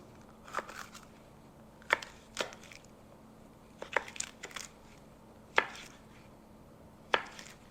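A knife rough-chops poblano peppers on a cutting board, about six sharp thuds spaced irregularly a second or so apart, close and clear over a quiet room.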